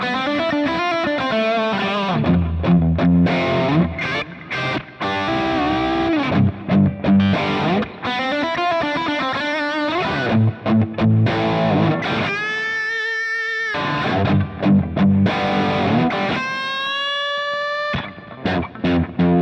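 Electric guitar played through a Bad Cat amp profile with a hot, gained-up Marshall-like boutique tone: loud distorted chords and riffs, with brief sustained single notes ringing out, heard alone.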